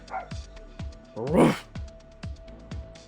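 Small dog barking in the mobile story game Choices: Murder at Homecoming, several short sharp barks in a steady rhythm with a brief whimpering yelp in the middle, fairly close and clear.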